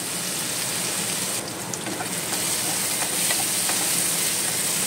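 Tomato masala gravy roasting and sizzling in a pan, a steady close crackling hiss with occasional stirring scrapes, continuous and fairly loud with no talking.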